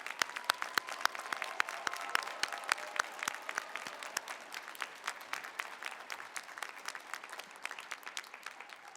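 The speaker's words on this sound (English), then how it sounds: "Let us give them a round of applause for these exceptional" Sustained applause from the audience honoring graduates at the University of Michigan-Flint April 2022 commencement for the School of Education & Human Services, dense overlapping clapping holding steady throughout, with no talk over it.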